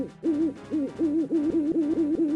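Repeated owl hoots as a sound effect, a steady run of short rhythmic calls close and clear, with no voices over them.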